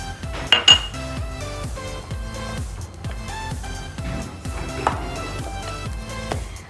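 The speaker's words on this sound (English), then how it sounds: "I'm going to add the tutti frutti in it and mix it well." Tutti frutti is folded into eggless cake batter in a bowl, with a spoon scraping and knocking against the sides in a slow, repeating rhythm, close and clear, with a couple of sharper clinks early on.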